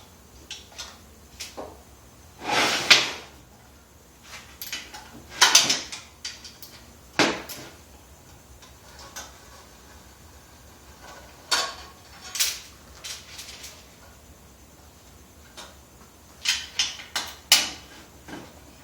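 Metal clicks, taps and rattles as the engine shroud is removed from a minibike, scattered knocks and brief clanks at close range with quiet gaps between them.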